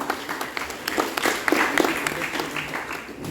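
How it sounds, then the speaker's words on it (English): An audience at a school graduation ceremony applauds a speaker, giving a continuous wash of many handclaps with scattered sharper claps that holds at a moderate level throughout. "Let's give her a round of applause."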